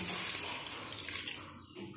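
Water pours steadily into a pressure cooker holding masala, a continuous splashing stream at close range that tapers off near the end.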